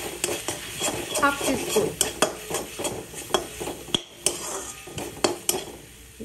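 A metal spoon clatters and scrapes against a pan while spices with turmeric fry and sizzle in oil, rapid irregular clinks up close, with someone speaking briefly over it.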